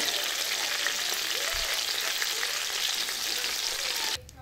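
Whole quail fry in hot oil in a wok, a dense steady sizzle and crackle throughout at close range, with a brief low clunk partway and the frying noise cutting off abruptly near the end.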